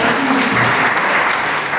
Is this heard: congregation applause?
yes